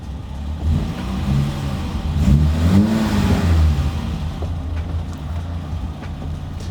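An old project car's engine runs up close, idling low with a mid-pitched rumble that swells briefly as if revved, then settles back to a steady idle with no talk.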